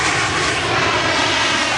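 A jet airliner roars steadily and loudly on the runway at Mumbai airport just after touching down, a continuous broadband engine rush with no voices.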